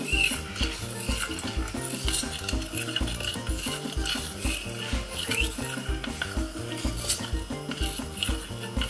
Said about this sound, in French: je vais essayer de remuer de temps en temps